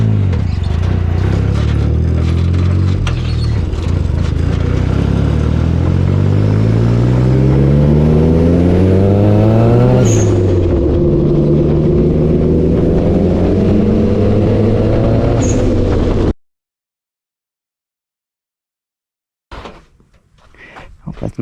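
A Mitsubishi 3A92 three-cylinder MIVEC engine fitted with a K03 turbo powers a trail buggy, revving loud and close with rising and falling harmonic sweeps for about sixteen seconds, then cutting to near silence before brief faint noises return.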